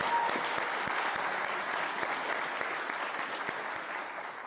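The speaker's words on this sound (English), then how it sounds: "Give her a round of applause." Audience applause rings out at a City of Atlanta youth employment program signing day, honoring the interim commissioner; a dense, steady wash of clapping from a sizable crowd that holds strong and tapers slightly toward the end.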